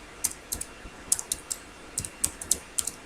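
Keys clatter on a computer keyboard in short, irregular bursts of sharp clicks, with quick pairs of strokes and brief pauses, close and alone against a quiet background.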